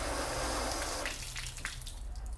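Water from a hose floods a car's paint panel coated with Turtle Wax ceramic spray sealant: a close rushing gush that eases after about a second into lighter splashing and dripping.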